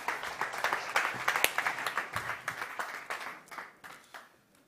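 Applause from a conference audience as a startup founder takes the stage at a travel and tourism startup competition, dense clapping that builds, then thins and fades out over the last second.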